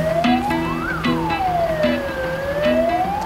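Fire truck siren wailing as the engine enters a market during a fire lane access drill, a loud rising and falling sweep with a repeating two-tone horn pattern underneath.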